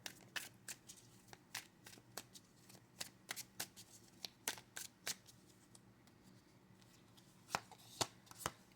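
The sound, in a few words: shuffling tarot cards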